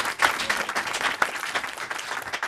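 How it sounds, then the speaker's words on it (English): A conference audience at a webcast panel discussion applauds its speakers, producing dense, even clapping from many hands that stays loud and sustained throughout. "If you could join me in giving a round of applause for our speakers."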